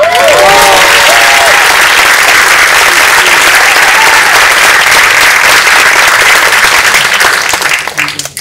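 At a graduation ceremony, a large audience gives loud, continuous applause, with a brief voice or cheer audible early on, before the clapping thins and fades at the end.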